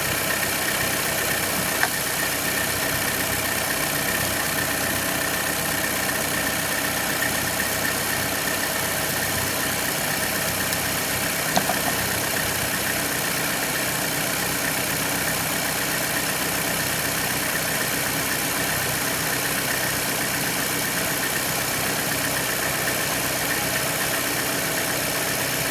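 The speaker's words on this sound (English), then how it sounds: "Let it idle a minute or two." A 2012 Chevrolet Cruze turbo engine idles after a turbo leak repair, a steady unbroken hum with a faint vibration running throughout, close and without talk.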